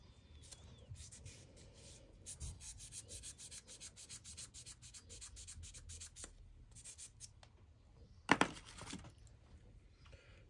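Garden secateurs are rubbed clean by hand in quiet, close, rhythmic scrubbing strokes, with a brief louder metallic scrape and clink near the end.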